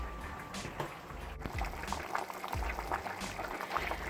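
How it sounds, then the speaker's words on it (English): Pots of vegetable broth boil on a stove, giving a continuous close bubbling and gurgling hiss with light splashy pops throughout. "these are both boiling out"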